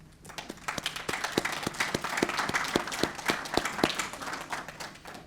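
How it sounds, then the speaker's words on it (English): Graduates at a 2022 IB graduation ceremony clap for themselves, individual sharp claps standing out over a steady wash of group applause lasting about five seconds at moderate volume. "So graduates, give yourselves a round of applause, please."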